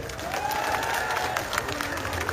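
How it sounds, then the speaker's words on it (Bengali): A crowd at a political rally in Bhuapur, Bangladesh, clapping together, a dense, steady wash of applause that stays even in loudness throughout the short stretch. "আমরা সকলে মিলে আমরা করতালি দিয়ে অভিনন্দন জানাই তাকে।"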